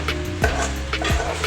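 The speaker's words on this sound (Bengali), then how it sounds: "ভালো করে ফ্রাই করা হইতেছে" Okra (bhindi bhaji) frying in a pan, a steady close sizzle with two low scraping stirs of the spatula, no voices.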